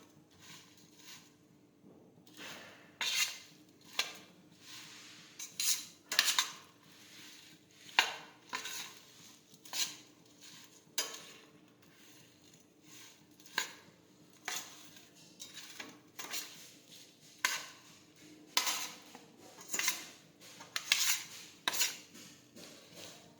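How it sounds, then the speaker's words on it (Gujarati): A spoon stirs chili relish (marchano sambharo) with turmeric in a pan, giving repeated scraping clinks against the metal in irregular bursts, close and fairly quiet, with no voices. "હવે થોડી હળદર નાખીશું. ફરી પાછું મિક્સ કરી દઈશું."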